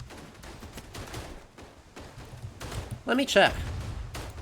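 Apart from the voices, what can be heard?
mortar strike in the video game Verdun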